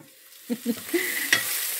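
Meat being browned in a pan for dolma, with a few spoon stirs and scrapes followed by a soft sizzle, quiet and close.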